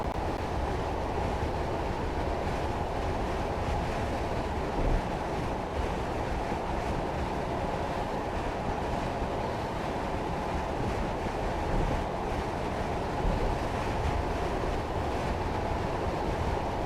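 Class 40 diesel locomotive in Train Sim 2021 on the Settle to Appleby line, a steady low rumbling drone with rolling rail noise that holds evenly at a constant level throughout, with no talk over it.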